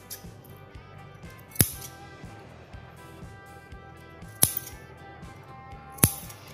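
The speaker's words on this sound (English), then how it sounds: "after the stitching we mark small cuts and do not cut the line of stitching like this" Fabric scissors snip small cuts into a shirt neckline beside the piping stitching: three crisp, sharp snips spaced a couple of seconds apart, close and clear over a quiet background.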